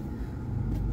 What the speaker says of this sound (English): I am sitting in traffic